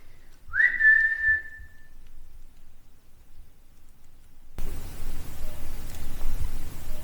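During a night ghost hunt in an old lunatic asylum, a person gives one short rising whistle, then silence, followed by a soft steady hiss of background noise.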